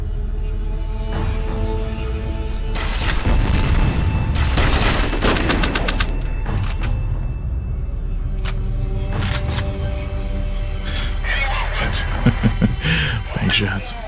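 Bursts of gunfire and explosions from an action video game with slow-motion shootouts, dense crackling volleys clustered in loud stretches over a continuous rumbling background.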